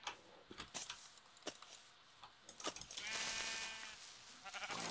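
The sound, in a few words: sheep bleating in the video game Minecraft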